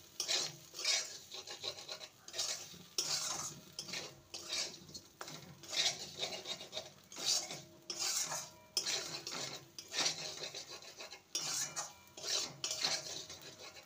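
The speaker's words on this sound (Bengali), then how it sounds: "সমস্ত কিছু ভালো করে নেড়ে নেব।" A spoon stirs roasted poppy seeds and half-ground peanut powder with bitter gourd and potato in a pan, giving soft repeated scraping and clinking strokes, close and quiet.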